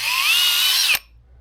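Power drill with a 4mm bit, a close, loud high whine lasting just under a second, winding slightly upward before stopping abruptly, leaving near silence.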